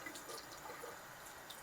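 Cold tap water runs at low flow over broccoli being rinsed, a steady faint hiss and patter of water without pause and with no talking.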